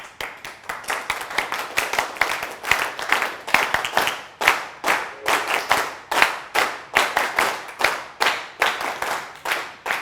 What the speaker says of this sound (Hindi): अब ये वाली ताली हमने बजाई।